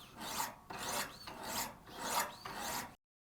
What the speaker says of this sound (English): We'll continue sharpening by flipping the stones around to the 600 grits and again doing 20